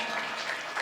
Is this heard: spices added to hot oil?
no